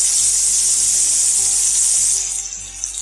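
Pieces of Indian gooseberry dropped into hot oil with asafoetida for pickle, giving a loud, close, hissing sizzle that holds steady and then eases slightly toward the end.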